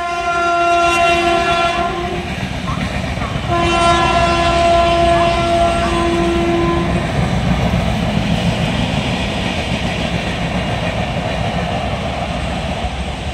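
A train sounds its horn in two long blasts over a loud rumbling, clattering rail noise that continues steadily as it passes close by, arriving at Bagnan railway station.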